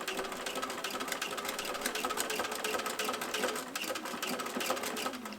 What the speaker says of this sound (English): just sew a straight line right across both ends of the gusset to start with